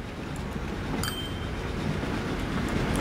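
A tram in Transport Fever 2 rolls over a level crossing, giving a steady low rumble with faint clinks and a brief high squeal, growing slightly louder as it passes.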